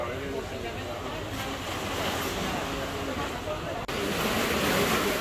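Waves wash continuously onto the seashore at Joyuda, Cabo Rojo, at sunset, a steady broad surf roar with some wind, while a voice speaks over it.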